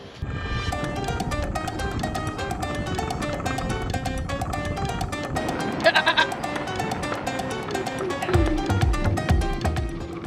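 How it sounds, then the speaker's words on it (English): Goats and kids on a small island bleat again and again, a dense chorus of overlapping calls close by over a steady background hum, with a louder cluster of cries near the end. "It looks like they got a plethora of goats on this island."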